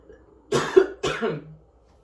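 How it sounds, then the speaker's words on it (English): Two short, sharp coughs from a person in a quiet indoor group setting, each a loud burst separated by a brief pause, with no talking over them. "I know a couple of us are coughing"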